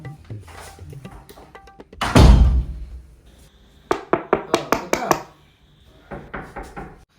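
A heavy thud, then a quick burst of about six sharp knocks on a door, followed by a few softer raps, with faint voices in the background.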